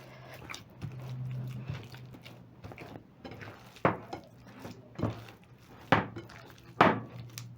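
Chapati dough with oil and butternut being kneaded by hand: a series of soft thumping, slapping presses with a steady working rhythm, close and moderately loud, with a low hum running underneath.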